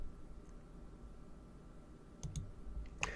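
A computer mouse gives a few quiet, crisp clicks near the end, two close together and then one more, over faint background hiss with no talking.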